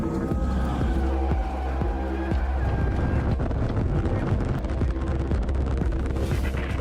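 SpaceX Starship Flight 8 rocket climbing in flight, a loud, continuous broadband roar with rumbling low end and crackling texture that holds steady for the whole stretch.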